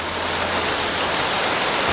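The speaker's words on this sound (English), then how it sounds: "It's even more magical that it's raining." Steady rain falls in the jungle around an off-grid Earthship, a dense, even hiss of drops on surfaces, close and loud, continuous with no voices.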